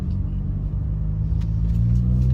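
Abarth 500 engine starting and settling into a loud, deep, throbbing idle rumble, close up and steady, with a slight rise in revs near the end.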